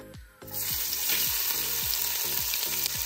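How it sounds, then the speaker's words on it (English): Chopped onions hitting hot bacon fat in a pot, a loud steady sizzle with rhythmic stirring scrapes after a brief quieter start. "with the bacon fat in the pot, I'm going to add the onions"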